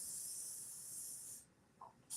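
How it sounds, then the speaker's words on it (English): Aerosol spray hissing in a bathroom: one steady, close burst lasting about a second and a half, then cutting off to near quiet with a faint short sound after. "make sure you spray in there"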